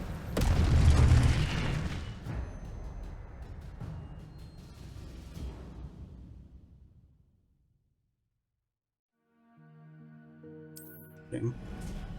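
A spell-triggered explosion in the video game Hogwarts Legacy: a loud booming blast with a rumbling tail that decays over several seconds into silence, followed by faint game music and chimes.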